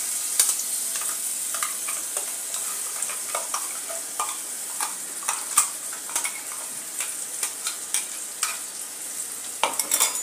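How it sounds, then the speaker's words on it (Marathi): Ground masala paste for Kolhapuri misal fries in hot oil with a bright, constant sizzle, while a spoon stirs it in quick, irregular scrapes and taps close by, and nobody speaks. "पहिल्यांदा आपण हा पेस्ट केलेला मसाला घालून घेऊया।"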